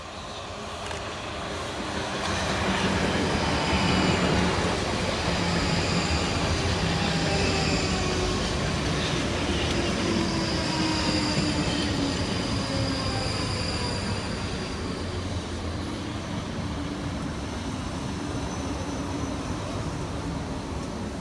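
Two coupled South Western Railway Class 458 electric units roll into a station on a Reading to London Waterloo service, the rumble swelling after a quiet start and holding steady, with rising and falling motor whine.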